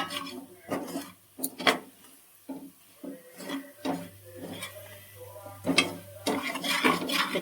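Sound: stirring spice mix in a cooking pot

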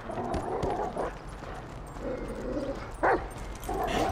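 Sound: dog barking in the video game GTA 5

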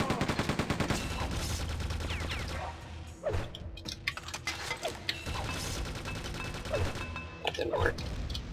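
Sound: gunfire from enemies in the video game Quake 2

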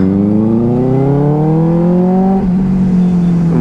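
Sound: Benelli motorcycle engine, very loud

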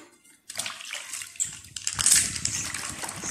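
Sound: makeup brush washed in warm soapy water

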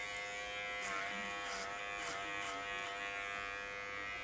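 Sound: electric hair clipper cutting a zero fade haircut

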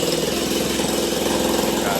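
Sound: machine drilling while lifting a wooden house

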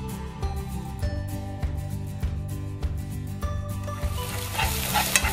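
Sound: sliced salad onion sizzling in hot cooking oil

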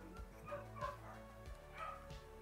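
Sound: dog barking and whimpering

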